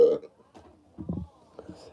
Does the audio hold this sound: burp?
yes